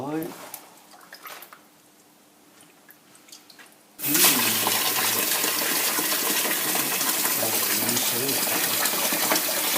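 Water gushes steadily into a container to soak a vegan imitation food, loud and continuous after a quieter opening with faint handling sounds.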